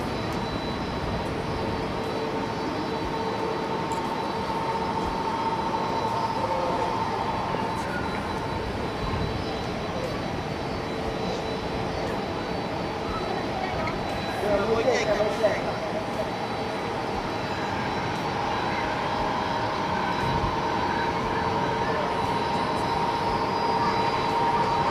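A jet airliner lands at Haneda airport, its engine roar a steady broad wash held across the whole span with a brief swell midway, mixed with ambient noise from the spotting position.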